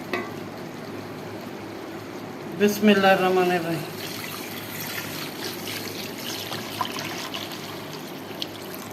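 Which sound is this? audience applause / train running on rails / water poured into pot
water poured into pot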